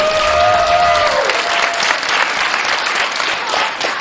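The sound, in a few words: audience applause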